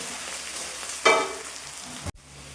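Garlic and ginger dropped into hot oil in a pan, a sudden loud hiss that settles into a steady sizzle before cutting off sharply, close and alone with no talk.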